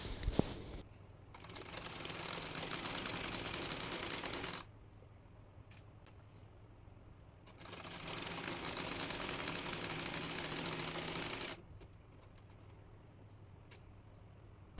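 A domestic sewing machine runs in two long, steady bursts of stitching while sewing open-work lace onto a palazzo salwar. A quiet pause separates the runs, and no one talks.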